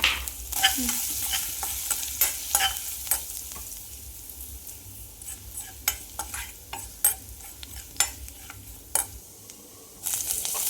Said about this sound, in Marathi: लसूण थोडासा परतून घेऊया.